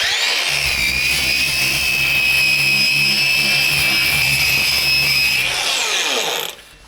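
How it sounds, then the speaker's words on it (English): A power tool whines loudly and steadily while 220 grit sandpaper cleans up a screw hole in a V6 engine block on a line boring rig, then winds down and stops near the end. "So now we're cleaning up the screw hole. 220 grit."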